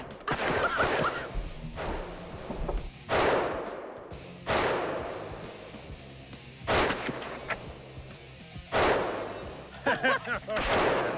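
Loud, sharp bursts from a hand-cranked gun fired outdoors, coming in several separate volleys of rapid cracks spread across the clip, each with a ringing tail. Brief voices are faintly present between bursts.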